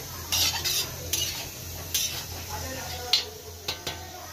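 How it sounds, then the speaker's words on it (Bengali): Spinach cooked with eggplant in a pot without added water is stirred, giving a few short scraping and clinking bursts of a utensil against the pot over a low, steady kitchen hum. "শাকটা একটু নাড়াচাড়া করে দিলাম।"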